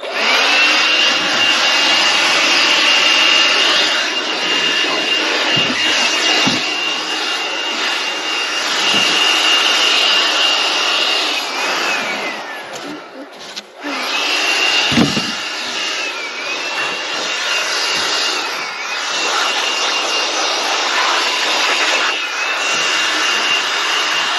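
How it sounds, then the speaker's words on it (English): A Makita leaf blower runs steadily and loudly throughout, a continuous high-pitched whine with a strong airy rush, dipping briefly once before resuming, set on an off-grid tiny-home deck build. "Thank goodness I brought my Makita blower."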